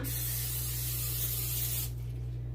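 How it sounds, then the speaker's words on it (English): Non-stick cooking spray hisses steadily from an aerosol can onto cookie sheets, a close, continuous spray lasting about two seconds before cutting off, with a low hum underneath. "I'm going to spray the cookie sheets now so I don't get sidetracked and forget to later."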